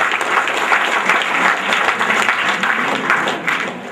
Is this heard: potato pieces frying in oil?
no